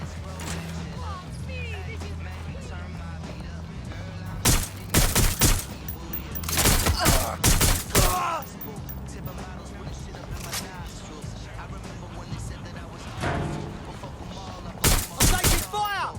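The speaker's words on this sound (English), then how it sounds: "I'm taking fire!" Gunfire in the video game Watch Dogs: Legion: dense bursts of shots in several clusters, loud and close, with a steady low game drone between volleys and a voice talking in places.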